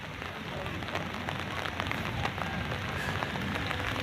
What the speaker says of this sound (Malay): Rinai, hujan.